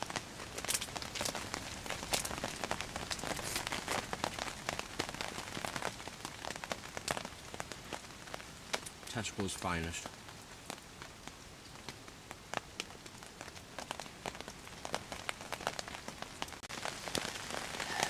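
Rain patters steadily on a surface, a dense, faint, continuous crackle of drops that swells and eases, with a brief spoken remark partway through.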